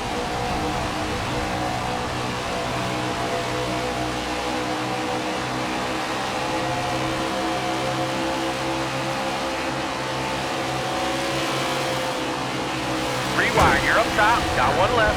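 Race car engine in the NASCAR 21 Ignition video game, a steady droning engine tone held throughout a close three-wide pack, with a brief rising rev near the end and no clear talk.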